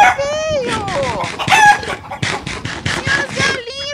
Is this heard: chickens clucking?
yes